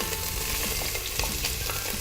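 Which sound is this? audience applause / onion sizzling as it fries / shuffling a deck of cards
onion sizzling as it fries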